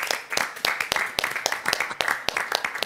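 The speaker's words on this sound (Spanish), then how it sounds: "Lo vamos a recibir con un fuerte aplauso" Scattered applause on a Spanish-language TV show as a guest is welcomed: a modest number of distinct, fairly quiet claps in an irregular rhythm, with little else behind them.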